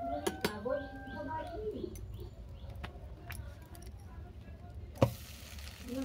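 A hilsa fish roe roll fries in a pan with a low sizzle, punctuated by clinks and scrapes of a utensil against the pan; a voice is heard briefly.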